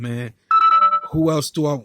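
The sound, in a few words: mobile phone ringing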